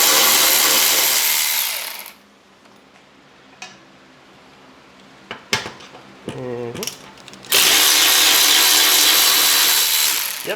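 Power tool backing screws out of a Mazda Miata front bumper, with loud whirring bursts at the start and end and sparse clicks and rattles of parts being handled in the quieter middle.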